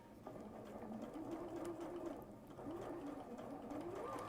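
Sewing machine running steadily as it stitches a seam on a Tula Pink Skyline quilt, a close, even whirring hum with slight speed changes and faint background voices.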